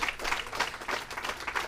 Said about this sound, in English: Give them a round of applause, the Killers panel.